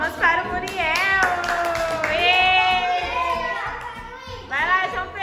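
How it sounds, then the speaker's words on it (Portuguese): Preschool children clapping hands in a class, several short bursts of clapping mixed with children's excited voices and an adult talking over them. "Palmas para o Muriel."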